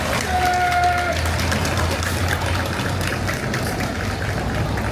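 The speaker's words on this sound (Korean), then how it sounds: "다시 한번 큰 박수로 환영해 주시기 바랍니다" A rally crowd at an MG Non-Life Insurance union general strike meeting applauds in a steady, loud, dense wash of clapping and crowd noise, with a low hum running underneath.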